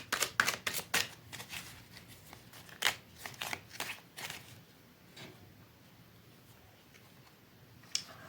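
A tarot card deck is shuffled in quick, crisp riffling bursts during the first few seconds. A few softer card flicks follow, and one last snap comes near the end, close and fairly quiet with no talking.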